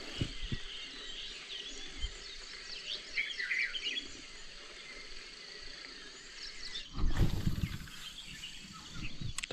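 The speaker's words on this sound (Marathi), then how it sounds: "बॅकग्राऊंडला चेक करा पक्ष्यांचे आवाज किती येतो बघा" Birds chirp and call repeatedly in the background at a riverside spot during traditional fishing, with bright trills rising over steady insect hum, fairly faint and distant, and a brief rustling bump near the end.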